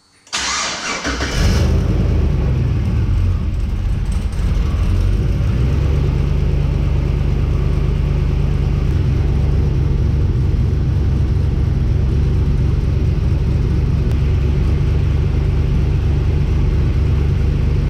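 A Nissan 240SX with a turbocharged 6.0-liter engine cranks briefly and fires up, then settles into a loud, steady, deep idle that runs close and uninterrupted with no talking.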